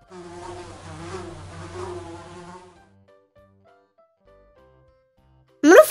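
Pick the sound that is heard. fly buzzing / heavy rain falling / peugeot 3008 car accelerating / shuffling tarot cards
fly buzzing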